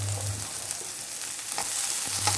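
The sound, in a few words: mustard seeds, garlic and shallots frying in oil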